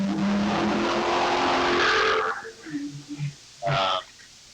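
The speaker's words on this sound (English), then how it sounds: "The car's speeding by." A car speeds past with a loud rushing roar that fades away, and a brief engine sound follows, while a person talks over it.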